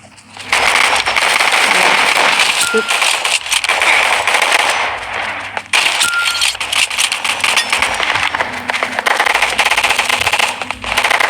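Rapid automatic gunfire in the Gunfight Arena video game, with a Japanese soldier loadout. Loud, near-continuous bursts run for about five seconds, break off briefly, then resume in sustained firing.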